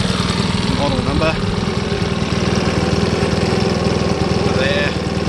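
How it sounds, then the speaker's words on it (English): Makita BHX2500 leaf blower with a 4-stroke MM4 engine, which stalls and loses power, running loudly and close at a steady, buzzing idle with a couple of brief whistling rises in pitch. "we have here the Makita 4-stroke blower, the MM4 engine"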